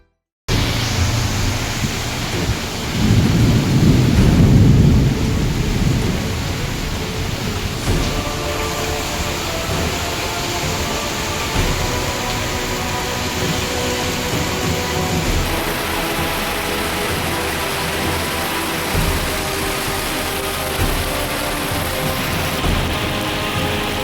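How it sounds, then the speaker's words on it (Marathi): Heavy rain pours steadily in a thunderstorm with strong wind, a dense continuous roar filling the scene, with a louder low rumble of thunder or gust swelling briefly early on and no voices. "विटा शहरासह आसपासच्या परिसरात आज रविवारी सायंकाळी अचानक हवामानात बदल होऊन तुफान वाऱ्यासह पावसाने जोरदार हजेरी लावली."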